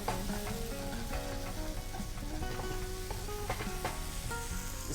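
Curry frying in a pan for Hyderabadi veg biryani and mirch salan while being stirred, with a dense, steady sizzle throughout and occasional stirring scrapes, close and fairly loud, no talking.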